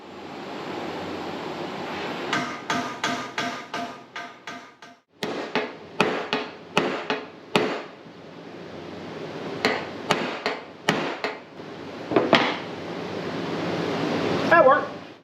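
Hammer striking a car radiator near the cap to dent it, a series of sharp metallic knocks in irregular bursts over about fifteen seconds, close and loud, with someone talking between blows.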